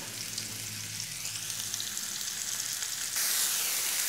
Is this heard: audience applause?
no